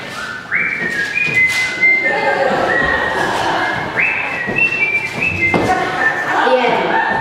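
Actors in a stage play whistle together while dancing, a series of rising whistled notes over a busy bed of footsteps, thumps and background voices.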